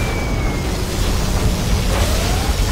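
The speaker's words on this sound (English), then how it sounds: "Particle cannon activated." A particle cannon fires in Command & Conquer: Generals – Zero Hour, a loud, dense roaring blast of noise filling the whole moment, with faint thin tones sweeping through it.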